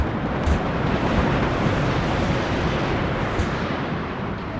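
A massive explosion in the real-time strategy game Warno rolls as a loud, dense, sustained rumble with heavy low-end roar lasting several seconds, alone without talk.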